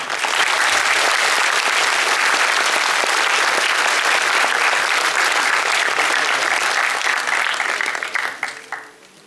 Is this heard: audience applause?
yes